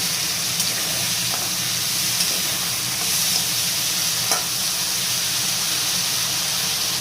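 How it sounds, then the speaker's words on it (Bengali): Radhuni spice paste with green chillies fries in a pan while being stirred, giving a steady, close sizzle and hiss with a few faint scraping clicks, no voices. "রাঁধুনি বাটা দিয়ে ভালোভাবে নাড়াচাড়া করে ভালো করে একটু ছাড়তে নেব"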